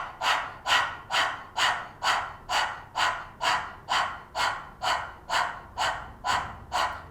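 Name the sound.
person panting rapidly with tongue out, breathing exercise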